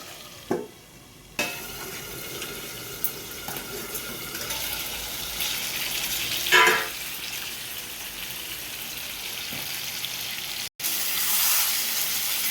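Chicken pieces sizzling and frying in a pan with an occasional stir, a steady close hiss broken by a few sharp clanks of the utensil against the pan.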